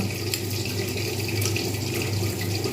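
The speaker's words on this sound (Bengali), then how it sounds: "আমি এটাকে একটু জল দিয়ে জাস্ট ভালোভাবে এটাকে মেল্ট করে নেব" Water poured into mustard paste gives a steady close gush of liquid for a few seconds over a low background hum, with no talking.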